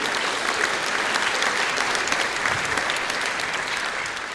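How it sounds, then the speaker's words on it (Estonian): Sustained audience applause at a stand-up comedy gala, dense steady clapping from a large crowd lasting throughout at an even, loud level. "see väärib aplausi"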